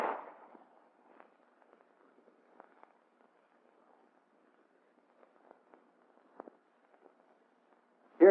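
Handgun fire during Army combat firing training, sharp distant shots with sparse faint reports scattered across a quiet stretch and a louder crack at the end.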